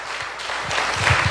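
A church audience breaks into applause, a brief burst of dense clapping that builds slightly over its short span.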